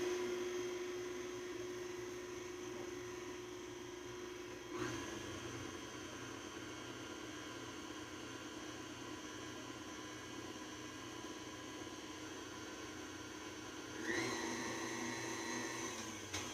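An electric mixer beats Boston cream pie batter of eggs and sugar, a steady droning motor hum running unbroken throughout with a slight shift in pitch partway through.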